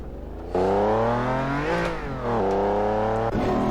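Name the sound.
Lamborghini LM002 engine revving in video game Assetto Corsa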